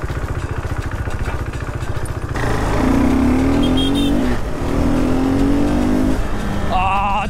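A KTM RC 390 motorcycle engine idles with a rough low rumble, then climbs through two rising revs that hold a strained tone, loud and close.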